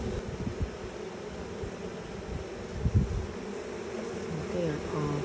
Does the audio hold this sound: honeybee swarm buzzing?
yes